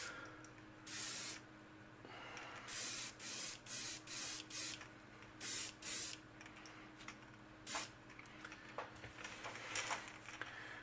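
Airbrush spray gun spraying paint onto a fishing lure in short hissing bursts, roughly a dozen of them, some in quick runs and others spaced apart, fairly close over a low steady room hum.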